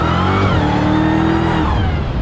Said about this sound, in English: That whine is, I mean, it's addicting.